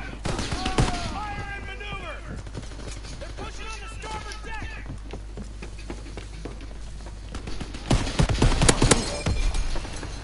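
Gunfire in a WW2 video game: sharp rifle and machine-gun shots crack in bursts, a cluster near the start and a heavier volley near the end, with shouted voices in between.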